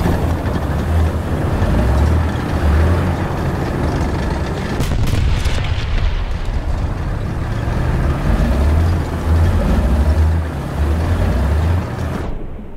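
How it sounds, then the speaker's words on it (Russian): A tank engine in the War Thunder video game hums with a steady low drone, with periodic booming rumbles and bursts over it, loud and continuous throughout. "Ребят, да это его двигатель гудит."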